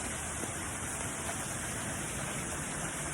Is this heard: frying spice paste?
no